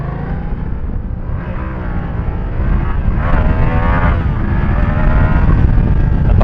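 A Yamaha MT-07 Tracer 700 motorcycle engine rumbles while being ridden, a loud, low, continuous growl with wavering pitch that swells slightly in the second half, heard alone without talk.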